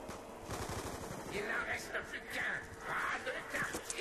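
Rapid gunfire from a video game shootout around a barn, bursts of shots under a commentator talking over the action.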